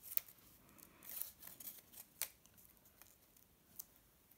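Scissors snip through paper at an angle in a few short, quiet cuts close by, separated by brief pauses in otherwise near-silent surroundings.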